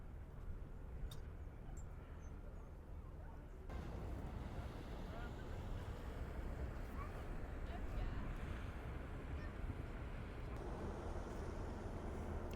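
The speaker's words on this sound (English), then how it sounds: "the Brittany Ferries boat is now leaving" A Brittany Ferries ship pulls out of Plymouth harbour, heard as a steady low rumble blended with wind buffeting the microphone and washing waves, continuous and fairly even throughout.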